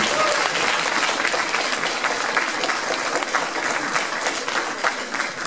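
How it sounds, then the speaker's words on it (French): Sustained applause from an audience at a cosplay contest, dense and even clapping that fills the room for several seconds without a break. "on peut l'applaudir"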